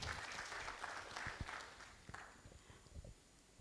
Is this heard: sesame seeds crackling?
no